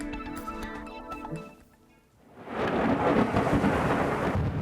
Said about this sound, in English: that was the sound from the thunderstorms that rolled through last night